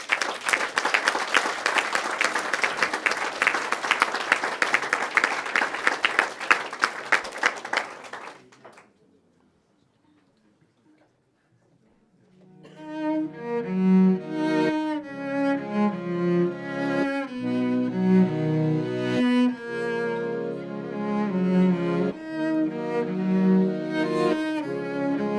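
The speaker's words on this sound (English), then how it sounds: "So final applause before we go to the music for the norisbank." Applause from a live-show audience at a norisbank-sponsored event, loud dense clapping for about eight seconds that fades into silence before music begins.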